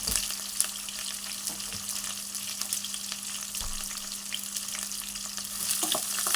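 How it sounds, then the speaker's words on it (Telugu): Onions and curry leaves fry in a pan for a Telugu ridge gourd curry, giving a steady, close sizzle with occasional stirring scrapes and a faint background hum, no talking. "ఆ కరేపాకు ఆ ఉల్లిగడ్డలు అన్నీ మగ్గాలి"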